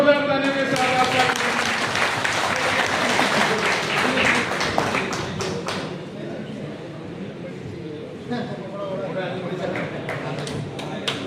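An audience applauds at an Engineers' Day ceremony honouring guests, steady crowd clapping with voices mixed in, thinning partway through and then picking up again more lightly.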